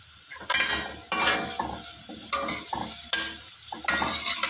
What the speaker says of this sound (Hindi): थोड़ा सा हमने इसको फ्राई कर लें